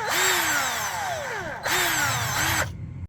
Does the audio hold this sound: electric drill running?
yes